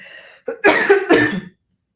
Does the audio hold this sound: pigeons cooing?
no